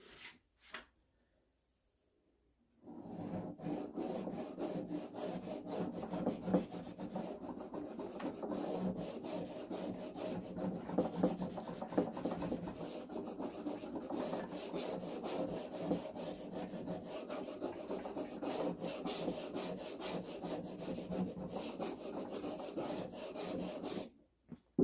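Chisel being honed on an oiled sharpening stone, a steady close rasping scrape with a rapid rubbing rhythm that runs continuously after a brief silent start.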